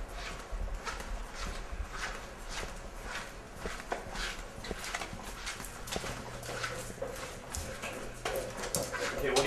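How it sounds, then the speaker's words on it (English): An Airedale dog kicks and knocks its bowl around, making repeated scraping, clattering knocks at a close distance, with steady background noise beneath. "Dog's kicking his bowl. That means he wants either food or water."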